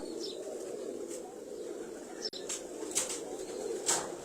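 A racing pigeon coos softly and repeatedly close by, with a few faint chirps and brief rustling, over steady background noise.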